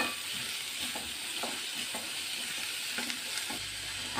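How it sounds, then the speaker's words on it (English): Onions are stirred in a pan for pav bhaji, a soft steady sizzle broken by rhythmic scraping strokes about every half second. "Mix it well."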